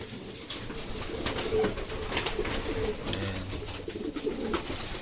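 Racing pigeons settle back at their loft during a training flight, giving soft repeated coos close by over a light rustle of wings and shuffling, with no talk.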